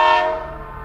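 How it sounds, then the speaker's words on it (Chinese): A train horn blares loud and close at the start, holding a steady harmonic tone that slowly fades as the train runs across a bridge, with no voices present. "火车在桥上跑。"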